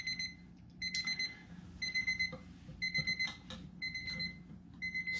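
A stopwatch alarm inside a vacuum pump chamber beeps in rapid bursts of four, repeating about every second, clear and fairly close, with no talk over it.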